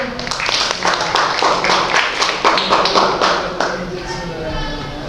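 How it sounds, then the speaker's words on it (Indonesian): A classroom of teenage students claps for a classmate named Ben, a fairly loud burst of scattered, uneven hand claps with distinct individual taps standing out before it gradually tapers off. "tepuk tangan untuk Ben"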